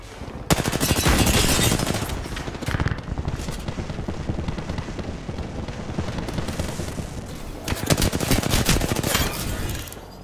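Heavy automatic gunfire in Apex Legends, close and loud, with long sustained bursts, a brief lull in the middle and another intense volley near the end.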